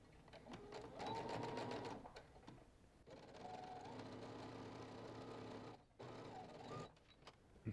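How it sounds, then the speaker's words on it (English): A Brother sewing machine stitches close to a pressed fabric edge, a steady whirring hum with a rapid needle chatter running for several seconds, stopping briefly and starting again, close and fairly quiet. "we're just going to be stitching as close as we can to the edge of that pressed"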